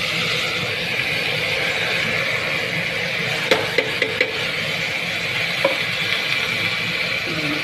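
Rice goes into a pan with paneer, carrot, beans, chopped onion, ginger and chilli and is stirred, giving a low, steady sizzle broken by a few soft spoon scrapes and clicks, with no talking.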